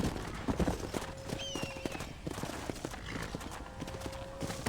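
Horse hooves clip-clop at a steady trot in the Western video game Red Dead Redemption, fairly close, with a few brief whinny-like tones and faint background ambience; no one speaks.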